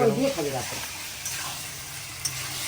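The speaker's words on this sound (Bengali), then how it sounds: "কষা মাংস রান্না করছো" Spiced meat frying in a pan for kosha mangsho, a steady close hiss and sizzle running throughout, with a brief voice at the start over the cooking noise.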